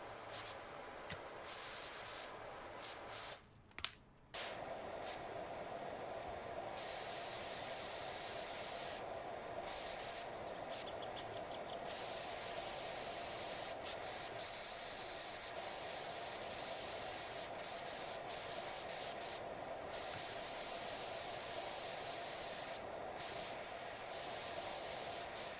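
A pressure washer in Power Wash Simulator 2 hisses in a long, steady spray with frequent brief cutoffs and one short break near the start, staying quiet and even throughout with no voices.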